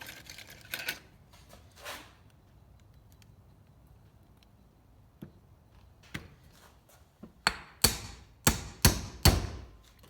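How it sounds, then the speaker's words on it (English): Metal hammer blows strike a stuck valve on a vintage Honda XR80 engine: a few scattered taps early on, then a rapid series of five or six sharp, loud strikes near the end. "I just hammered on the top of the valve there, and that sucker is stuck."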